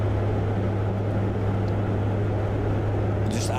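A constant low engine drone with a steady hum fills the space, like the sound from inside an airplane cabin, unbroken throughout.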